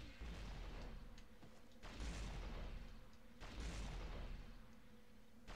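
Heavy gunfire in Devil May Cry, booming shots landing in repeated bursts of a second or two each, with brief lulls between them.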